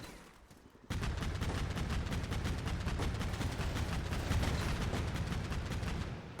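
A BTR armored vehicle firing on the enemy in a video game urban invasion battle, a dense, continuous rapid burst of heavy automatic gunfire that starts abruptly and rattles on loudly without pause.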